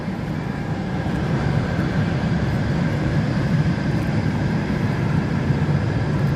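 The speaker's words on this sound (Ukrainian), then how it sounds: "Поїзд іде, перекрикує мене." A train passes near an outdoor spot where a diesel generator stands, a loud, steady low rumble that fills the whole stretch and swamps everything else, with no talking.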